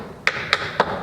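Three crisp clogging taps of a shuffle step on a hard floor, evenly spaced and close, each a bright percussive click.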